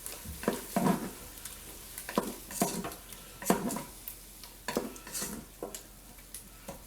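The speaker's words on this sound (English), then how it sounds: "Go ahead and give my meat a turn here." Beef chunks browning in a pan sizzle softly while a utensil scrapes and clatters against the pan in irregular bursts as the meat is turned, close and fairly quiet.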